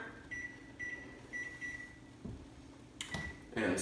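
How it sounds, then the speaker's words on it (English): Kitchen timer beeping in short bursts while being set during a home partial-extract brew day for a 5-gallon IPA batch, several evenly spaced beeps with steady background hum, a few clicks near the end. "we're gonna add 15 more minutes to our timer"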